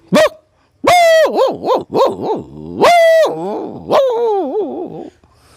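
A voice imitates dogs attacking, with loud, close barks, yelps and snarling howls in rapid, wavering bursts separated by short gaps.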